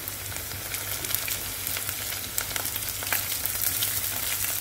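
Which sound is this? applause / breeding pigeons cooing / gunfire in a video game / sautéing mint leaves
sautéing mint leaves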